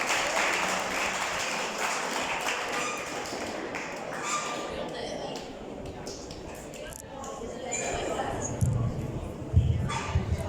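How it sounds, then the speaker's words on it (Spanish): An audience claps for the director at a school civic event, scattered patter over room noise with voices talking throughout and a dog barking nearby. "Un aplauso para él"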